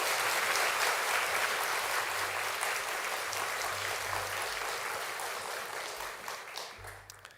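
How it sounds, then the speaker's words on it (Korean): Dense welcoming applause from a church congregation during a Sunday service, steady and full at first, then gradually thinning and fading toward the end. "환영하는 박수로 맞이해주세요"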